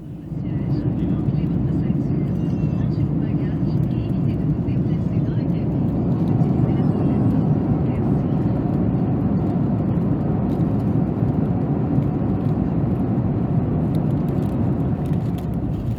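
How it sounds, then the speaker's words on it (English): A WestJet Boeing 737 MAX arriving and landing on runway 35 right, heard from inside the cabin as a loud, steady broadband engine and airflow roar that holds through the whole approach. "Here is our arrival and landing on runway 35 right."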